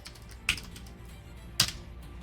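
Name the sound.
typing a shell command on a computer keyboard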